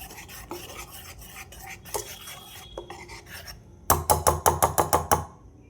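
Potato pakora batter with chili flakes and coriander leaves being mixed in a bowl: soft scattered scrapes, then a burst of about eight quick, rhythmic, loud strokes near the end.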